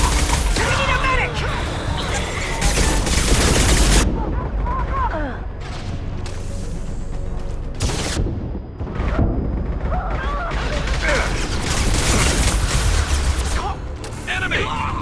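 Gunfire from a firefight in the video game Mass Effect 2, with bursts of sharp automatic shots and booming impacts that come and go over a steady bed of combat noise, broken by brief near-silent gaps, while voices call out.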